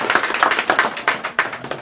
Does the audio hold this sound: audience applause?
yes